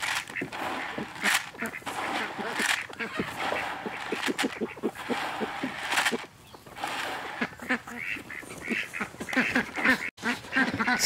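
Flock of farm ducks quacking excitedly as they are fed grain, loud rapid repeated quacks from several birds close by, with people talking among them.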